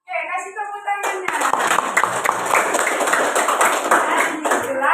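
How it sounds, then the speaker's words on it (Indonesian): Classroom audience clapping together, a dense burst of hand claps that starts about one second in and carries on steadily to the end, with speech heard just before the clapping begins. "Oke, kasih tepuk tangannya."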